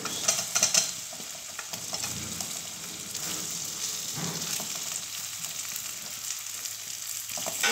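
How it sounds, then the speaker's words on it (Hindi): Potatoes for a fasting-style dish fry loudly in a spice paste, a constant dense sizzle broken by a few quick metallic taps at the start and the low scrape of stirring. "पेस्ट भून गया है, अब हम इसमें आलू मिलाएंगे।"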